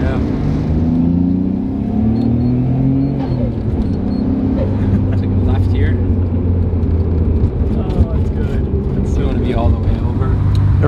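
Interior of a Japan-built Nissan R32 GTR with a Greddy boost controller driving under part throttle, its engine droning and rising in pitch through gear changes, with people talking over the steady rumble.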